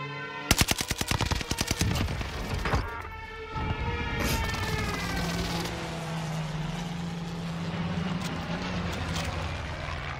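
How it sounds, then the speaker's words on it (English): A precision airstrike in the video game Warzone on the Caldera map: a rapid burst of loud gunfire-like impacts, then a sustained rumbling roar with a droning tone trailing on to the end. "Allied precision airstrike incoming."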